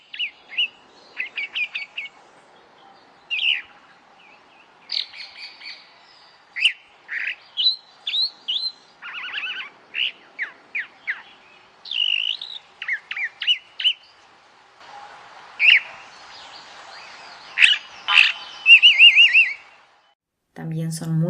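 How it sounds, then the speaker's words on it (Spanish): A calandria, or mockingbird, sings a long varied song of rapid chirps, trills and whistled phrases, repeated in bursts with short gaps, loud and close, ending with a brief low sound. "la calandria es una excelente cantora, con un gorgojeo muy agradable"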